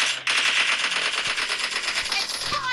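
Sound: gunfire in PUBG video game

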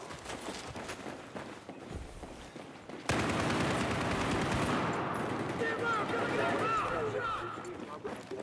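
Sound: gunfire in Battlefield 4 video game

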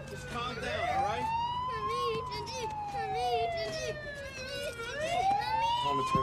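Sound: vehicle siren wailing

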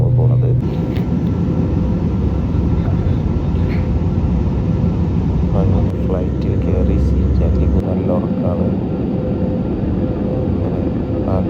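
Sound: airplane in flight

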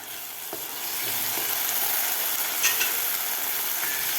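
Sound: tomato puree frying with onions and green chillies

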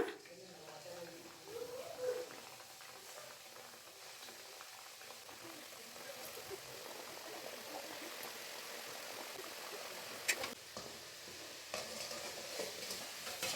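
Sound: maida sweet chakra dough frying in hot oil

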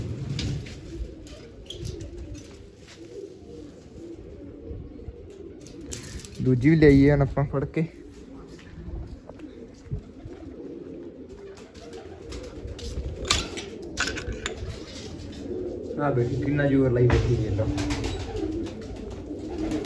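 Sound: pigeons cooing

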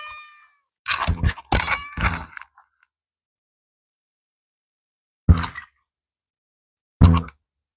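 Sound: cat meowing

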